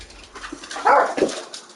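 A pet puppy named Falcor barks in a couple of short, close yaps indoors, a brief sharp burst followed by a softer second call.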